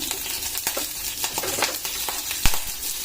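Chopped green chillies and onion tipped into a hot pan with cumin seeds, sizzling steadily with scattered spatula scrapes and a sharp metallic clink near the end.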